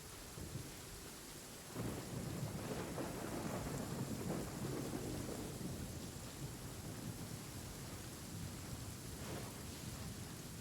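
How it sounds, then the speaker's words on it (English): Rain in the video game Genshin Impact hisses steadily, joined by a low rolling thunder rumble that swells early and lingers beneath the downpour, with no voices. "Actually, it's the first time I've noticed the rain."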